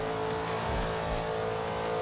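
A car engine in the racing video game Forza Horizon 2 drones steadily at high speed, a constant mid-pitched hum with slight surges and no talk.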